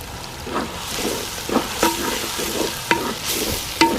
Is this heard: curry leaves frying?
yes